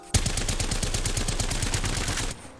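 Havoc energy rifle from the video game Apex Legends firing a continuous rapid automatic burst of about two seconds, loud and close, with no voices over it.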